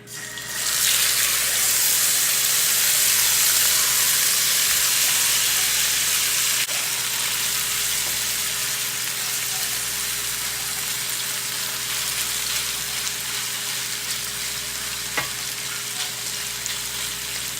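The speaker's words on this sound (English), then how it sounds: "You're gonna let that fry on each side for about 60 seconds." Seafood sizzles in hot oil in a frying pan, a loud steady hiss that runs unbroken from start to finish with no talking.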